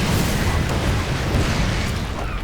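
Missile turrets in StarCraft blow up in a steady, dense roar of booming explosions, loud and continuous with no pauses, and no voices over it.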